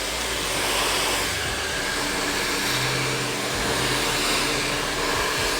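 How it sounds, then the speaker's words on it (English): Blow dryer running steadily on a lace topper hair piece, a continuous broad whooshing hiss with a motor hum beneath, holding at a fairly even level throughout. "You can get your blow dryer"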